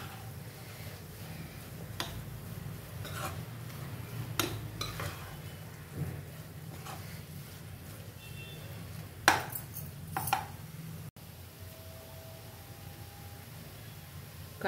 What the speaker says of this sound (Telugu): మొత్తం కలుపుకుందాం. చక్కగా ఇలా కలిపేసుకోవాలి.